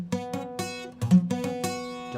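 A beginner's bar chord on guitar, strummed about eight times in a steady rhythm, each strum ringing with a slightly buzzy, uneven tone, played close and alone.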